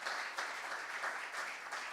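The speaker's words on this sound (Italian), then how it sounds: "facciamoci un bel applauso che così ci riscaldiamo un attimo l'atmosfera." An audience claps together at an Italian food-excellence event in the Veneto region, a steady, dense round of applause that holds for the whole moment at moderate distance, with no talk over it.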